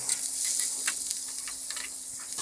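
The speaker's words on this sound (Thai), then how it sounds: "เริ่มจากน้ำมันสำหรับผัดครับใส่ลงไปเอากุ้งลงไปผัดก่อนครับ" Shrimp stir-frying in hot oil in a pan, giving a steady close sizzle with scattered crackles and light stirring clicks, no voices.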